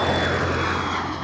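Radial piston engines of a 1937 Douglas DC-3, original Wright Cyclone 1820s, give a steady, loud, low droning rumble that holds without a break throughout.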